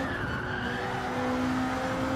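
Car tyres screech steadily in Gran Turismo 7 as the car oversteers on a worn tyre, a sustained squeal over a constant engine drone, loud and unbroken through the whole moment.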